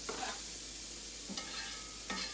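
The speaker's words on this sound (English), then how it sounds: "First thing I'm gonna add to my pan is some butter and 1 whole diced up onion." Diced onion frying in butter in a pan crackles with a constant sizzle, broken by three short scraping stirs spaced through the moment.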